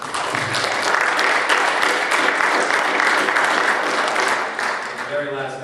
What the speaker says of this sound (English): we'd just like to give you a round of applause for your accomplishment